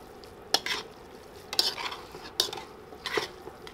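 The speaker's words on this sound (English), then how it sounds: "Mix everything together nicely." Rice noodles and jalapenos stirred in a hot pan for Thai spicy noodles: four brisk scraping strokes over a steady frying sizzle, close and clear.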